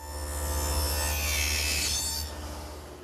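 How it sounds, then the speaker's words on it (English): A steady, loud whirring of a dado blade grinding glazing grooves into wooden collar ties for a greenhouse, sustained for a couple of seconds before winding down. "Now with the dado head reduced to the size I need for the glazing, I'll make the appropriate grooves"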